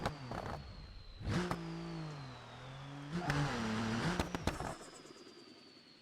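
A car engine in BeamNG revs hard in two long pulls during a burnout attempt, pitch climbing and dipping with short bursts between, fairly close and with no talk.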